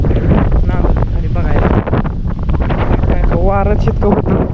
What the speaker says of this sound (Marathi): वारा थोडं कमी झालंय